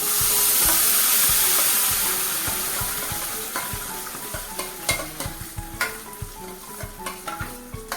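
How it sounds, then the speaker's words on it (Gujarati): Fennel seeds crackle and sizzle in hot oil for a green mango chutney, a loud steady fry that gives way to sharp irregular pops and stirring scrapes. "વરિયાળી તતડી ગઈ છે"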